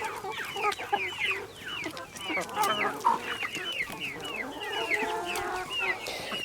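Several chickens cluck and squawk close by in overlapping bursts, a busy, continuous chatter of hens.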